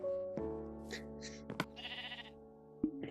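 Sheep in the video game Minecraft bleat in a few close, clear, wavering calls spaced across a few seconds, with some soft shuffling in between.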